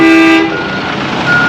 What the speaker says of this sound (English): Honking at me.